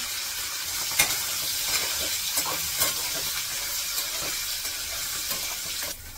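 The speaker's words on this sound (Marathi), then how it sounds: "आता हे पनीर मी सगळं एकदा टाकून घेते।" Paneer fries in a pan with a loud continuous sizzle and hiss, broken by a few light knocks, until the sound drops off sharply near the end.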